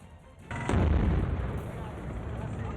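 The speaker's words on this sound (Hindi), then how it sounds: "फिर बम निरोधक दस्ते ने आईडी में धमाका कर आतंकियों की साजिश का अंत कर दिया" A single heavy blast from a bomb squad's controlled detonation of an IED booms out after a short quiet stretch, followed by a rumbling, crackling tail as debris and echoes settle.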